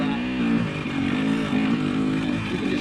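A 2020 KTM 300 XC TPI two-stroke dirt bike lugs uphill at low revs, its engine note steady, close and loud as it bogs and chugs along without rising.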